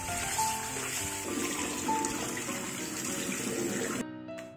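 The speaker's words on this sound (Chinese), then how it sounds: "把提前泡好的海带清洗干净，清洗海带一定要耐心一点" Soaked kelp rinsed under a running tap, a steady splashing hiss of water up close that cuts off abruptly near the end.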